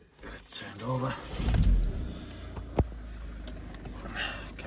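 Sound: Volkswagen Eos 2.0 TDI engine starting

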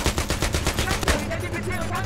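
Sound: gunfire in the video game Battlefield 3

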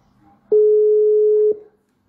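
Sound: telephone ringing tone during a call

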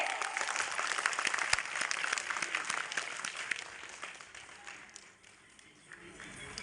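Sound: audience applause

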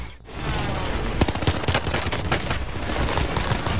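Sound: gunfire in a shooter video game

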